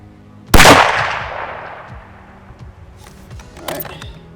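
A single loud hunting rifle shot fired at a 300-yard target, a sharp crack followed by a long rolling echo that fades over several seconds, with faint small knocks afterward.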